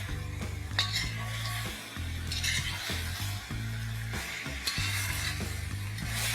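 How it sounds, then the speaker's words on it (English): Mutton sizzles with ginger and garlic paste in a pan, steady frying hiss broken by scraping stirs and occasional utensil clinks against the pot, close and continuous with no speech. "Fry this well till the raw flavor of the garlic and the ginger goes off"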